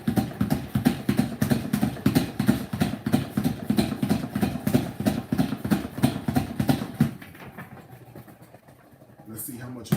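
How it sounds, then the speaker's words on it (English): A salad spinner whirs with rapid rhythmic clicking as washed lettuce spins inside, close and steady for several seconds before it slows and stops. "Now we spin."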